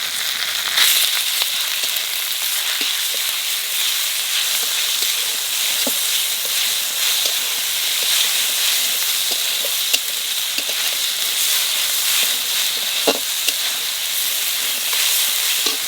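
Chicken sizzles steadily in a hot pan with garlic and ginger for restaurant-style fried rice, a dense continuous frying hiss with a few faint clicks and stirring knocks and no talking.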